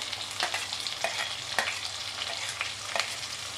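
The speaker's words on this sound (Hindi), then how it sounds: "प्याज डालेंगे, थोड़ा सा इसको भूनेंगे प्याज को" Finely chopped onions hit hot oil after bay leaves in a pan for a spiced potato and cauliflower curry, giving a bright continuous sizzle broken by regular stirring scrapes and taps.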